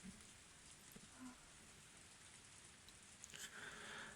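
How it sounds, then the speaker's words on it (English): Steady soft rainfall patters on surfaces in a Higurashi visual novel scene, a continuous quiet wash of drops with a few faint distinct ticks and no voices. "It began to rain that afternoon and it never stopped."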